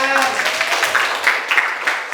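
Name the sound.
applause, clapping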